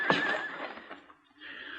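Horse whinnies loudly and close as a sound effect in a Gunsmoke radio drama, one shrill neigh that trails off, followed by softer breathy snorting.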